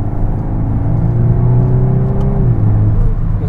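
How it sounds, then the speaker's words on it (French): Volkswagen Golf 8 R, a 320 hp performance hatchback, driven in traffic: loud, close engine drone with a rising whir as the car accelerates, turbo whoosh blended into the steady rumble, no voices. "On entend le souffle du turbo très très fort par moment."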